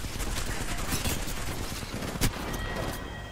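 Rapid gunfire from an Apex Legends match plays loudly and steadily for a few seconds, a dense run of shots with one sharper, louder crack near the end.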